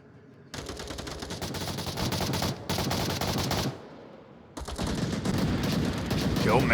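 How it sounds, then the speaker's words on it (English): Gunfire in the Onward VR video game during a tournament match: dense bursts of rapid automatic fire that start abruptly, pause briefly, then resume loud and sustained, with no talk over them. "Solid bit of shooting from him there."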